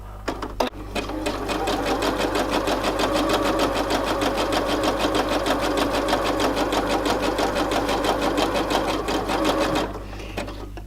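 A sewing machine stitching a skirt runs steadily with a fast, even mechanical rattle, close and loud, for about ten seconds, starting after a short click and stopping near the end.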